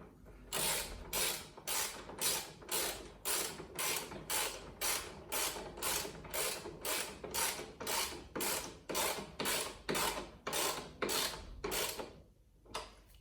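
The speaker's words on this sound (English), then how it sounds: "I'll move on to the top bolts using the 17mm socket and wrench," A ratchet wrench with a 17mm socket tightens the top pannier rack bolts on a Yamaha XT1200, with about twenty even, close clicking strokes in a steady rhythm and a short pause near the end.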